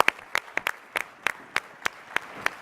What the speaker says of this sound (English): Let's give brothers Grant and Medina a round of applause for their brilliance